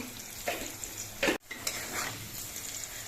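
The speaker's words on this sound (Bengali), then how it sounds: "আলুগুলো ভাজার সময় অল্প করে একটু নুন দিচ্ছি" Cut potatoes fry in oil in a wok, sizzling softly, with several scraping strokes of a spatula stirring them at a close distance.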